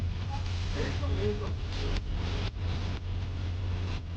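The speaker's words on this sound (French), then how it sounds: "La voiture sur l'autoroute." Steady road and engine drone from inside a car on a French motorway, a continuous, fairly loud low rumble with broadband tyre hiss, and faint voices mixed in.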